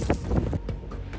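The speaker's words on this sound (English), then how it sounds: "Like listen to the wind when I come up." Strong gusts buffet the microphone outdoors during a solo survival trek in Hawaii, giving several loud, uneven low rumbles that surge and fade within about a second.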